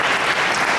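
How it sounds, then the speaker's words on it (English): An audience at a jazz ensemble concert clapping, a dense, loud burst of many hands caught in a brief snippet. "I'd like you to give him a hand as well"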